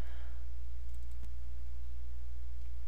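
A single computer mouse click launching a screen-recording program, one brief sharp tick against a constant low electrical hum and otherwise quiet room.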